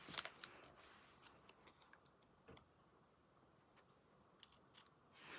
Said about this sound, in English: I'm going to pull that bit and just trim off the fluff.